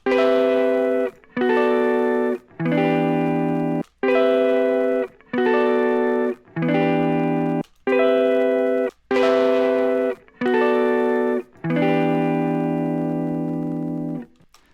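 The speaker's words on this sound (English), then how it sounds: "if you play around with it, you can introduce subtle distortion." Sustained chords in a lofi track made in Ableton Live repeat in steady blocks, the drive turned up giving each a slightly gritty, mildly distorted edge, played alone with no talking.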